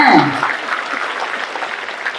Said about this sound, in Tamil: என்ன கம்மியா கைத்தட்டீங்க ஒத்துக்கல நீங்க